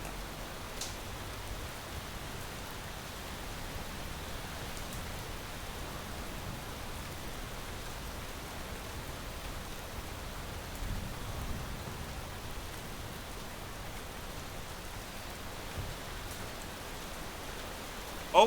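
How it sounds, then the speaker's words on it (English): Heavy rain pours steadily outdoors, a dense, even hiss of downpour that holds at constant loudness throughout with no voices. "As it definitely chucks down rain out here."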